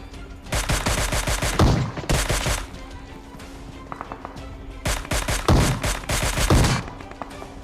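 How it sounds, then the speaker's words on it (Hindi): Gunfire in the video game PUBG, including a shotgun, comes as loud, dense clusters of rapid shots with a quieter gap between the two main volleys. "तभी एक बंदा मेरे टीममेट को शॉटगन से नॉक कर देता है।"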